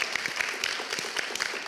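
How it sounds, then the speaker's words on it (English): A brief round of applause for a panel participant at a Python conference organizers' session, a short burst of scattered clapping at moderate volume. "Let's give a round of applause for Fanis."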